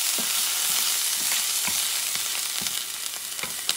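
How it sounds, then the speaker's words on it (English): Ingredients for Puerto Rican rice with pork feet sauté in olive oil, a continuous bright sizzle punctuated by several sharp utensil taps and stirs, close and steady. "Let me saute this baby."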